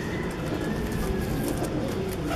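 A pigeon coos in soft, low throaty bursts amid a busy outdoor backdrop of steady noise, the calls fairly close but partly blended into the surrounding hum, with no talking.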